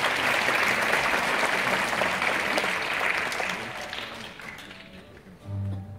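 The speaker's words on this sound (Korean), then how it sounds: "큰 박수 부탁드리겠습니다." An audience claps steadily at a taekwondo demonstration festival in a concert hall, the applause dense at first and then fading away, with a short low murmur near the end.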